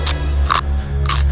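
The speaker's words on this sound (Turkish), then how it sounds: "Kraker dünyasında yepyeni bir çıtırtı." Crispy cheese crackers being bitten, three sharp crunches in quick succession, close and loud over a low steady hum.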